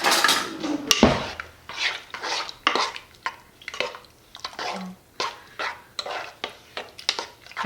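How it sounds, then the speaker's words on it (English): A spoon stirs cake batter for sticky toffee pudding in a bowl, making a steady run of scraping, clinking strokes about twice a second, close and moderately loud, with no talking. "we're gonna mix it around with a spoon"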